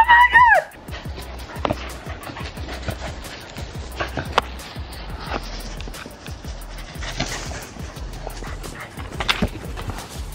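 Outdoors near a garden, a dog opens with a loud, close yelping whine, then keeps up scattered sharp barks and whimpers across a noisy background.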